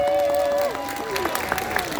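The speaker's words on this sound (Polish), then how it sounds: "gorąco, brawa!" A concert crowd in Augustów applauds the band, a held tone or whistle giving way to a spread of clapping with scattered sharp claps and faint cheering rising over it.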